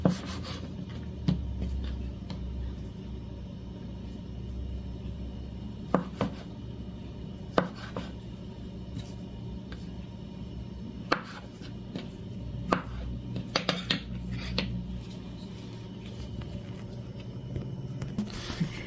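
A knife cutting sesame ball dough into halves on a board, with sparse, irregular soft thuds and taps over a quiet room hum, close and unhurried, no talking.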